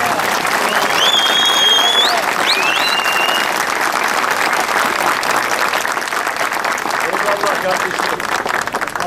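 A crowd at an outdoor flag rally in Şile claps loudly and steadily, with a few whistles cutting through the dense applause.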